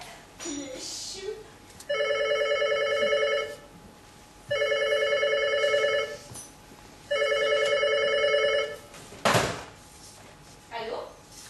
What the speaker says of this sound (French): Sœur Béatrice, téléphone!